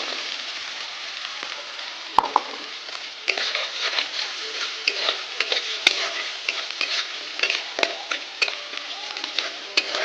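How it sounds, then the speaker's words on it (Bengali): Crab spice paste frying in oil in a pan on a stove, a steady bright sizzle with scattered stirring clicks and scrapes, close and continuous for about ten seconds. "এবার আমি সেই চুলার মধ্যে এই তেলের মধ্যে দেখুন ছেড়ে দিই।"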